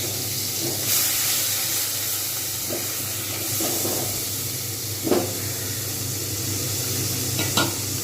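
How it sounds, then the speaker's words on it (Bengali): Onion paste fries under a lid in a pan for a capsicum paneer curry, giving a steady close hiss and sizzle. A few brief clinks of stirring come through, and no one speaks. "এটাকে সুন্দরভাবে ভেজে নেব পেঁয়াজটাকে"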